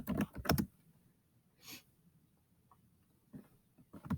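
A few quick bursts of typing on a computer keyboard near the start, then scattered single key clicks later, close and fairly quiet.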